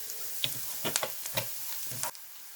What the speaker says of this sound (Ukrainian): Я хочу цибулю пересмажити із вершковим маслом.